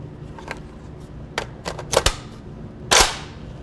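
A PTR91 HK G3 clone rifle fires 7.62x51 rounds outdoors, sharp cracks scattered at uneven intervals with one loudest, heavy final shot near the end, heard alone without talk.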